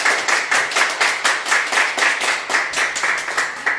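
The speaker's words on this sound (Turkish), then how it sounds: "sağlık çalışanlarımızı alkışlıyoruz" Steady rhythmic hand clapping, fairly close and loud, beats evenly for a few seconds as applause for health workers, with no voices.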